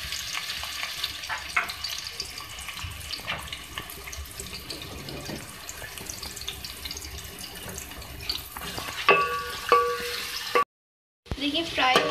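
Two medium onions frying in oil for dahi chicken aloo, a continuous close sizzle with some watery crackling, louder bursts near the end and a brief dropout.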